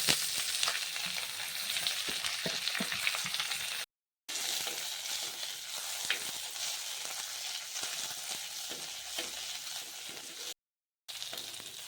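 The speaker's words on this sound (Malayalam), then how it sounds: "മുരിങ്ങയില ഒന്ന് നല്ലതായിട്ട് വഴലണം. കൈ എടുക്കാതെ ഇളക്കിക്കൊണ്ടിരിക്കണം 1 മിനിറ്റ്." Drumstick leaves and dried red chillies fry in a pan, a constant crackling sizzle with frequent stirring scrapes, broken by two short silent gaps, no talking.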